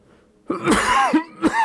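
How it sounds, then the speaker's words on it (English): A few harsh, close coughs from a man with a lingering cough, two or three rough bursts in quick succession. "Still can't get rid of that cough."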